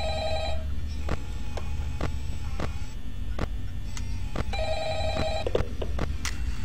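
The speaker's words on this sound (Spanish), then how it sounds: "como siempre el teléfono suena." Telephone bell ringing in the horror game Five Nights at Freddy's, a repeating electronic ring in two bursts at the start and near the end, over steady low hum and scattered clicks.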